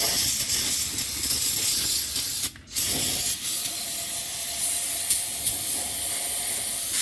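Cleaner sprays onto an Audi S8 D4 oil filter housing in a loud, steady, close hiss lasting several seconds, broken by one brief pause before the spray resumes, with no speech.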